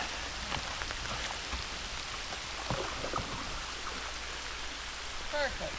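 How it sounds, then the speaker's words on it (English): Steady rain patters on the water around a kayak during bass fishing, a soft, even hiss with scattered drop ticks close by, and faint voices murmur briefly near the end. "It is starting to rain"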